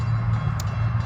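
A train at a train station gives off a steady, low rumble with a continuous hum and a faint, brief high tone partway through.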